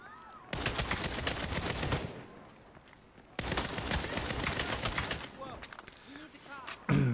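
Sustained automatic gunfire from the video game Saints Row 2022 comes in two long rapid bursts with a short quiet gap between them, close and loud, with a voice speaking briefly.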